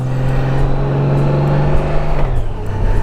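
A Honda Goldwing motorcycle pulls away, its engine note held steady, then dropping in pitch as it shifts near the end, heard up close with faint clicks overhead.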